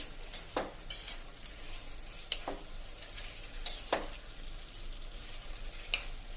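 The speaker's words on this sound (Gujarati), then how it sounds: "અને આને આપણે આવી રીતે સરસ મિક્સ કરી લેશું." A spoon stirs bottle gourd khichdi with rice in a pan over a medium gas flame, giving soft scraping strokes at an irregular rhythm over a faint sizzle, close and quiet with no talking.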